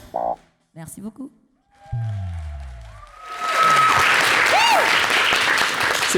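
After speech and a bit of music at a live TV broadcast, a studio audience breaks into sustained, dense applause that swells and holds, with a voice and musical tones still audible over it.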